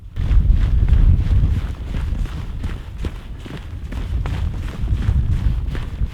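Strong wind buffets the microphone at a snowy winter campsite, a steady low roar with gusty swells and some crunching movement, close and loud.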